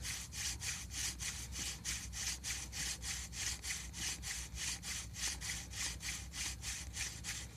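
A wooden hand drill spins back and forth in a fireboard divot. The rapid, even scraping strokes repeat roughly four times a second for over seven seconds, quiet and close with no voices.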